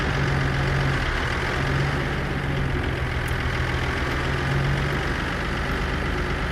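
A Peterbilt 362 truck engine idles in American Truck Simulator, a steady, low, rumbling drone that holds unchanged throughout with no talking.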